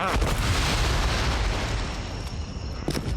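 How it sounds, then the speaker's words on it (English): Gunfire and heavy booming blasts in the video game Chronos: Before The Ashes, a dense, loud burst of shots and rumble filling the whole stretch, with a sharper crack near the end. "I should really see if I can just block the gunshots."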